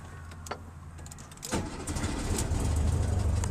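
A 1974 Volkswagen Super Beetle engine cranks briefly, catches and settles into a steady, rising idle, close and fairly loud with no talking.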